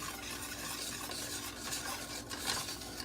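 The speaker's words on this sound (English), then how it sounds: "I'm going to take the whisk. And you just stir it together so that there's no lumps." A whisk stirs homemade playdough mixture in a bowl, making a soft, continuous scraping and swishing close up, with no voices.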